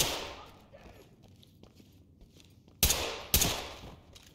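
Gunfire from the tactical shooter game Ready or Not: two loud, sharp shots ring out close together near the end, after quieter thumps and shuffling movement sounds.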